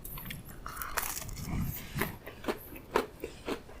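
Someone bites and chews an MRE vegetable cracker topped with cheese, close up, with crisp crunches and irregular chewing noises over a few seconds and no talking.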